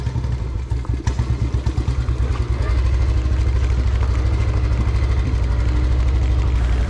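A motorcycle rolls down a steep rocky road, its engine throbbing loudly and close, pulsing unevenly at first and then droning steadily as the bike descends with rattling and clatter underneath.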